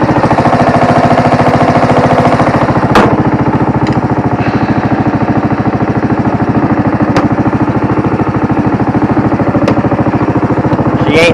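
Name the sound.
lawn mower engine idling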